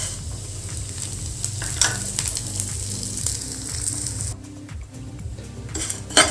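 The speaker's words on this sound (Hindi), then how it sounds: "हम इसको बहुत बारीकी से फ्राई करके लेना है" Flattened rice poha fries in ghee in a pan for poha kheer, giving a constant soft sizzle while a utensil stirs and scrapes with metallic clinks, the frying dropping quieter near the end before the stirring resumes.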